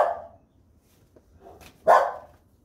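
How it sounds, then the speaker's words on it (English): A puppy barks nearby indoors, giving a short yap, a softer muffled sound, then a louder sharp bark that trails off. "I got my puppy dog in here, if y'all can't tell."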